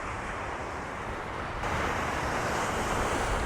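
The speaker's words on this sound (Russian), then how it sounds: "Ничего себе волны, посмотрите какие, а." Sea waves break along the embankment at Anapa, a continuous windy roar of surf that swells louder midway through, with no voices.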